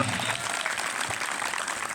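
Steady applause from an audience fills the whole moment, dense and continuous clapping at a fairly loud level.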